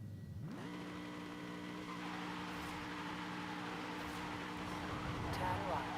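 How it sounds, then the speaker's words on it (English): A classic car in Forza Horizon 5 revs up quickly and then holds against the rev limiter, producing a loud, steady, buzzing engine drone that lasts several seconds before easing slightly, with no talking. "We're just going to hit the rev limiter."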